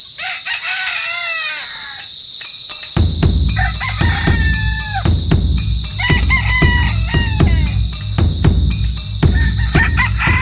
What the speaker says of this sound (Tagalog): Gutom na yung mga manok ko.